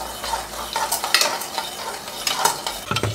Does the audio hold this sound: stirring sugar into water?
yes